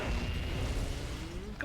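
A ship exploding in the space combat game Battlefleet Gothic: Armada 2, a loud, dense, rumbling blast that fills the whole moment, followed by a brief sharp pop at the end.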